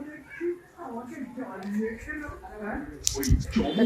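Clothes are washed by hand, with wet squishing and slapping of soaked fabric growing louder toward the end, while someone speaks over much of it.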